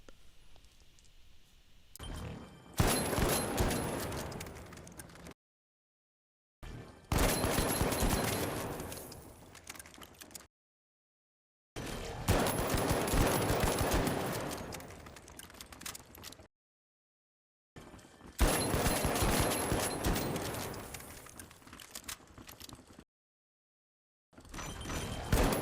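Gunfire from the CB-01, Revolver and Pike-556 in a video game, sounding as four loud bursts of several seconds each with short silent gaps between them, no talk over it.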